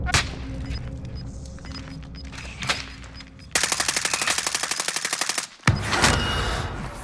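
Gunfire in the shooter game Warzone: sporadic shots give way to a rapid, loud burst of automatic fire, a brief gap, then another heavy volley, with no one talking over it.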